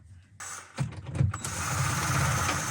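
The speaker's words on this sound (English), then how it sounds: "so far I see 3 3/8 bolts here, so loosen that up" A ratchet wrench loosening 3/8 bolts on an RV rooftop air conditioner, a few quick clicking turns followed by a steady mechanical whir, close up with no talking.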